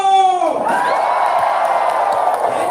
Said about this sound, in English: And applause for Mr. Hanto.